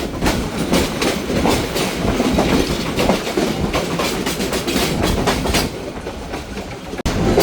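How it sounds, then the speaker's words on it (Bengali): The Sylhet–Dhaka Kalni Express passes on an adjacent double line, a loud continuous roar of rolling carriages with rhythmic clickety-clack from the wheels over rail joints, heard from a moving train. "আমাদের সাথে ডাবল লাইন ক্রসিং করলো সিলেট থেকে ছেড়ে আসা ঢাকাগামী কালনী এক্সপ্রেস"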